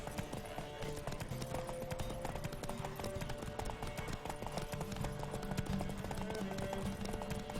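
Rapid hoofbeats of a galloping horse in the video game The Witcher 3 pound steadily throughout, a dense, continuous clatter with no voices over it.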